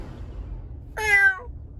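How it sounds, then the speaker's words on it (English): A cat gives a single short, clear meow close by over a low rumbling vehicle hum. "Okay, cat."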